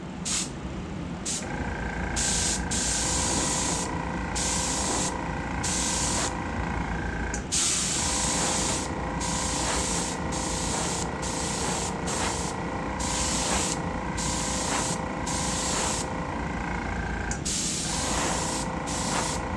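Aerosol spray paint, pearl green, hissing onto a waggler fishing float in steady continuous bursts with short pauses between passes, close and loud throughout.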